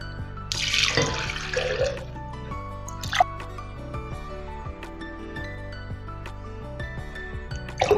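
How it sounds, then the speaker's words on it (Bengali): Cold water pours into a jug for a fennel and rock-sugar summer sherbet, a steady splashing burst near the start followed by softer drips and trickles, close and alone with music in the background. "এখানে আমি কিছু ঠান্ডা জল নেব"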